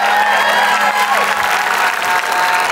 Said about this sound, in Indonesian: Oke, tepuk tangan dong sekali lagi untuk Unity.